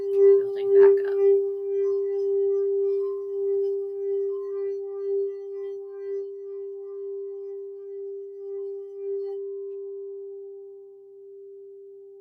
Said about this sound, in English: crystal singing bowl sound baths, just like that one that I played